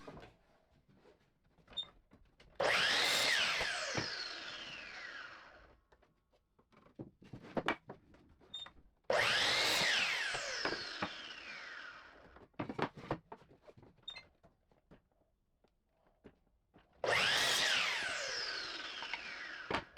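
A power saw making three separate cuts through wood boards for a 2x4 table, each a loud whining burst of a few seconds with quieter pauses of clicks and handling between them.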